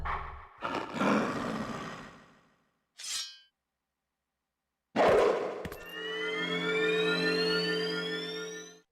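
A wolf roars in the Zelda game Twilight Princess, a few separate loud bursts with gaps of silence, followed by a long sustained ringing, clanging tone.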